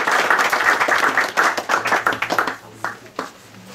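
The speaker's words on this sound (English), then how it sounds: "Let's give them a warm round of applause to all the youngsters who participated." Audience applause for young student performers at a music academy program, a dense burst of clapping that thins out into a few scattered claps toward the end.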